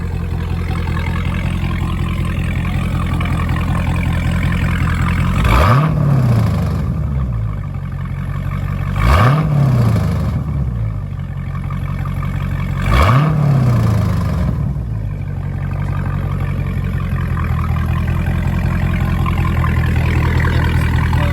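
A Dodge Challenger Scat Pack 392 with mid muffler delete and exhaust valves open in track mode idles with a deep rumble, then revs three times in sharp, loud bursts that rise and fall back to idle.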